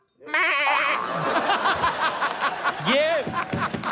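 A goat bleats in a wavering, quavering cry near the start, followed by a second bleat or a voice mimicking one amid laughter and chatter from a comedy show audience.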